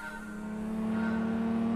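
A VW Lupo in Gran Turismo on the PSP holds a steady engine drone with a strong low hum and higher whine, swelling slightly louder as it runs alone without any voices.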